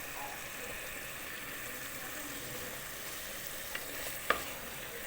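Courgettes fry in a pot with no water added, the first stage of a courgette soup, giving a continuous soft sizzle close by with one or two faint clinks near the end.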